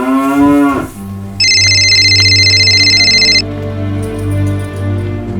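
A mobile phone ringtone sounds for about two seconds, a bright steady electronic ring over a low music bed, coming in after a short sliding tone near a prison compound.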